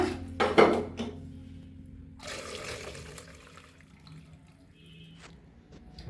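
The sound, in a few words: rinsing pasta with running water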